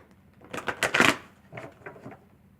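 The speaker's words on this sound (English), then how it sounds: "I was told to shuffle them this way." Quick papery riffles of a deck of cards being shuffled, a dense burst followed by two softer shuffles, close and fairly quiet.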